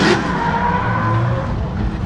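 Drift cars warm up their tires on a Formula Drift track in Orlando, a loud engine roar with screeching tire squeal, sustained and close, no voices.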